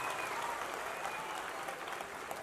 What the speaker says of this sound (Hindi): एक जोरदार तालियां अजय सर के लिए